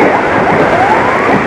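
Ambulance from RSUD Sumber Gelaga running in the fast lane, its wailing siren sweeping up and down amid loud road and wind roar from a pursuing motorbike.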